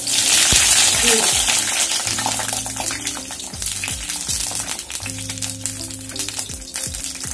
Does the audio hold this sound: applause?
no